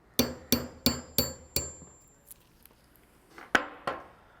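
A standard hammer taps a pin into a Trailer Valet JX wheel: five sharp metallic strikes in quick regular succession, a short pause, then two more hits, all close and distinct.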